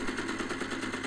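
An M62 gun fires in Magicka, a rapid stream of rounds blending into a continuous rattling burst that is fairly close and steady, with no pauses.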